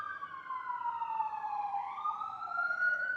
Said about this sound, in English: Them sirens. Police sirens, ambulance sirens.